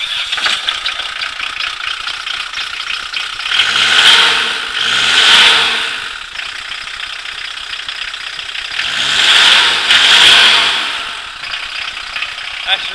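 Diesel conversion engine in a bus, revved twice in pairs of rising and falling bursts over a rattling, gruff idle, heard close up.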